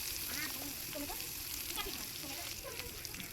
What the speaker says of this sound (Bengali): মাছ ভাজার তেলে পেঁয়াজ কুচি দিয়ে দেব।